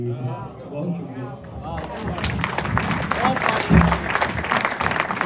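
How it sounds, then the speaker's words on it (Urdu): Audience applause for poet Khalid Khan at a Urdu humorous poetry recital, rising into a dense, steady clapping after a brief spoken line at the start, with crowd noise under it. "بہت تالیاں خالد خان کے لیے"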